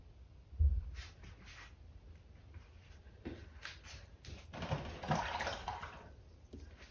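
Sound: rinsing a paintbrush in water

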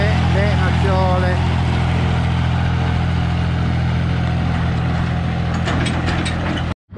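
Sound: forklift engine running while towing a tractor trailer

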